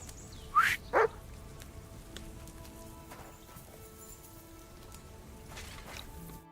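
A dog named Mutt in Kingdom Come: Deliverance 2 gives two quick, loud barks close by, followed by quieter game ambience with faint hoof clops and soft background tones.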